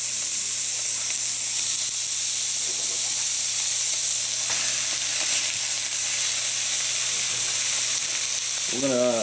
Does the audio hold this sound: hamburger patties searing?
yes